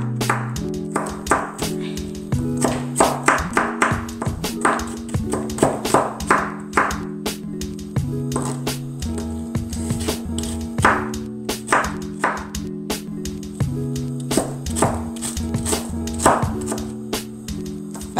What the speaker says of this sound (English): that's the onion chop